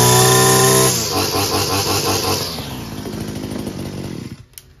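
A Wild Badger 26cc gas weed trimmer engine screams at high throttle, loud and close, then drops to a lower idle before dying away near the end, with no talk over it.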